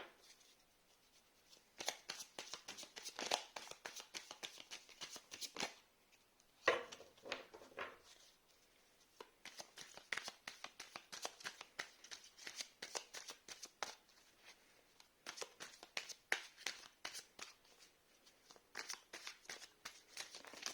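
Tarot cards shuffled by hand in long bursts of crisp, rapid riffling and slapping, close and fairly quiet, with brief pauses between rounds.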